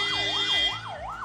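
An ambulance siren blares on a road where the vehicle has been stopped for a minister's convoy. The wail rises and falls in a steady, loud, continuous cycle with no talk.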